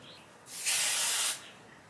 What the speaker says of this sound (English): It is the NEXXUS Maximum Hold Spray.